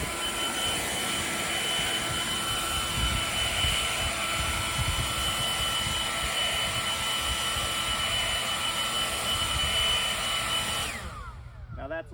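A Greenworks 80V battery leaf blower runs outdoors without turbo, giving a loud, steady rushing whine of air that holds constant for about eleven seconds before cutting off abruptly.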